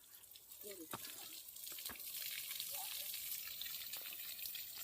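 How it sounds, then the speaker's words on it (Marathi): Faint trickle and splash of water poured onto the soil of a newly planted bael sapling outdoors, with brief snippets of a distant voice and a few sharp knocks. "त्यान रोपास पाणी देण्याचं कार्य करू आपण"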